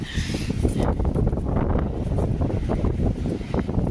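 Gusty outdoor wind buffets the microphone beside a Land Rover, making a steady, loud, rough rumble with rustling bursts and no clear talk.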